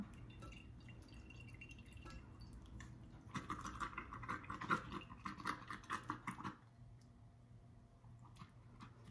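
Fire cider vinegar dripping through cheesecloth and a metal strainer into a bowl, quiet liquid trickle that swells into a run of close wet drips mid-way, then fades to faint drops.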